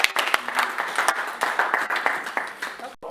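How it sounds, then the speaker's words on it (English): Scattered clapping from a school alumni gathering at a health talk, a modest round of applause with speech mixed in around the claps, fairly close and moderately loud. "A round of applause."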